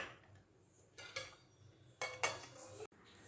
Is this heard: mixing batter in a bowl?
yes